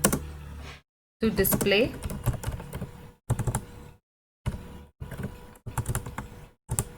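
Quick bursts of clicking keystrokes on a computer keyboard, typed in short separated runs with pauses between them, while a person speaks over part of it.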